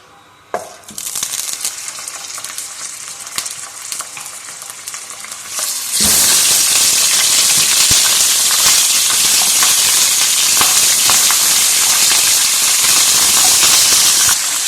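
Frozen meat, a full kilogram, drops into 100 g of hot oil and a loud, dense sizzle erupts midway, holding steady and bright until the end after quieter clinking and stirring before it.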